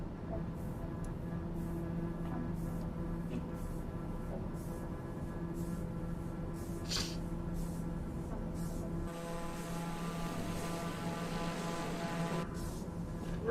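Jet airliner engines drone steadily during a climb toward flight level 300 in a flight simulator game, a continuous low hum and rumble with faint background clicks and no speech.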